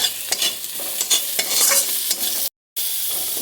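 Sliced onions sizzle and crackle in a hot pan for a home-style egg fry, with spatula scrapes and stirring over a steady hiss, broken by a brief silent gap near the end.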